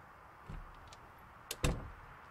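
A door opening in the survival video game Project Zomboid: a soft latch click, then two sharp clacks and a short creaking thud, quiet and close with no speech.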